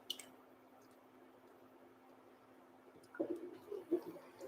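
Yogurt spooned into a lamb dumpling mixture for shish barak, giving soft wet squishing and dripping sounds, faint and close, after a quiet stretch.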